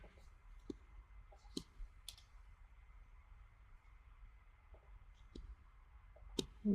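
Sparse mouse and keyboard clicks while editing in CLO 3D software, faint isolated ticks spaced irregularly over a quiet room hum.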